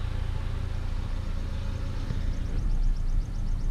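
A Saturn S-Series car engine idles steadily with a low rumble, and a whirring radiator fan runs alongside it, rising slightly toward the end.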